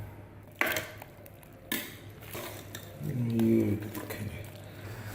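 Beef clatters and slides from a pressure cooker into a metal karahi pan with a couple of sharp metallic knocks, followed by wet squishing and stirring sounds, close by.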